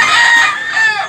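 A black Hennie gamecock crows loudly and close by in one sustained, wavering call that fills the whole short stretch without a pause.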